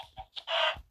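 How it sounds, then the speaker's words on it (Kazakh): Minecraft chicken clucking: short, close clucks and chirps, with one longer, louder squawk in the middle of a one-second burst. "Тауық."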